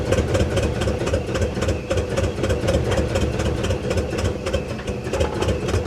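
A Rolls-Royce engine idles steadily and close by, with a dense low rumble and a slightly uneven, pulsing beat as it starts to run out of fuel.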